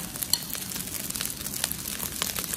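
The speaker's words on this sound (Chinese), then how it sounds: "继续大火给它翻炒" Egg fried rice with seaweed and white sesame is stir-fried in a wok over high heat, giving a continuous soft sizzle with scattered scraping clicks from the spatula as the rice is tossed.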